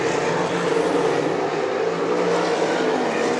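RaceSaver sprint cars race at Eagle Raceway, a steady loud engine roar from several cars running together at speed, with no voices over it.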